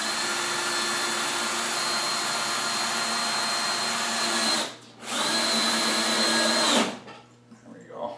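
A power drill drives construction screws into wood with a loud, high whine, running in two long continuous bursts with a brief stop between, then winding down into quieter handling noises.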